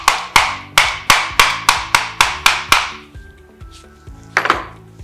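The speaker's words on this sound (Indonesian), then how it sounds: "kita pukul di bagian yang solid dengan menggunakan palu plastik." A plastic mallet strikes the solid part of a Makita power tool housing to knock the stator out: about nine sharp, evenly paced close blows, then a pause with faint ringing and one last double knock.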